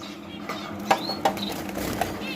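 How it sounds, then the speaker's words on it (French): Society finches with chicks in a home aviary chatter softly, with thin high chirps and a few brief squeaky calls over a steady background hum, fairly close but modest in level. "Les moineaux du Japon encore avec les bébés."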